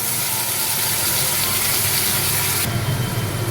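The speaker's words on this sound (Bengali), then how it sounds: "মশলাটা কিছুক্ষণ কষিয়ে এবার গুঁড়ো মশলার একটা পেস্ট দিয়ে দিচ্ছি।" Ground spice paste of cumin, turmeric, dried chilli and Kashmiri chilli powders goes into masala frying in a pan for a soybean and potato curry, giving a steady loud sizzle that surges a little louder near the end.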